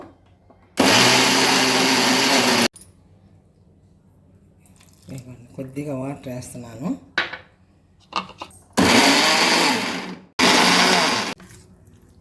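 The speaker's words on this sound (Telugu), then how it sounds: "ఇట్లా మిక్సీ పట్టుకోండి" A mixer grinder whirs loudly in three short bursts, coarsely grinding amla and green chillies for chutney, with a person talking and utensils clinking during the pause between runs.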